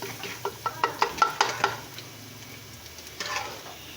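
Garlic frying in a hot pan for a chowmein, with a quick run of light metallic taps and clicks early on over a soft, steady sizzle that continues alone afterward.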